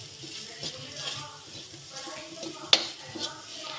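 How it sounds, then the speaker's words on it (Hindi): Masala spices for carrot pickle frying in a pan over a low flame: a soft, steady close sizzle with light stirring scrapes and one sharp clink partway through. Faint talk runs in the background. "ये धीमी आँच पे पकाने हैं मसाला, क्योंकि मसाला जल जाएगा"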